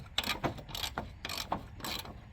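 A carriage bolt on a low-hour machine is turned loose in short ratcheting bursts, about five quick clicking strokes in a steady rhythm, close and moderately loud with no talking.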